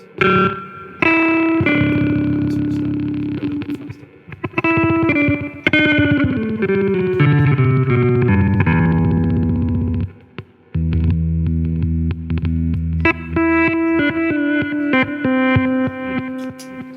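Electric guitar notes through a Danelectro Back Talk reverse delay pedal swell backwards, fully wet with quick repeats, stacking into a smeared, echoing wash of tones.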